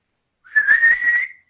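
A person whistles a single sustained, slightly wavering note, imitating a character's signal whistle in a tabletop role-play game; the sound is clear and close, lasting about a second with no talk over it.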